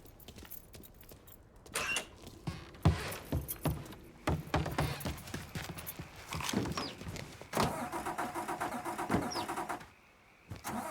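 A car engine starts up in the Mafia III video game, with a jangle of keys and clunks before the motor catches and runs at a steady, fairly loud idle.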